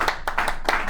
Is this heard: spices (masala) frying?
no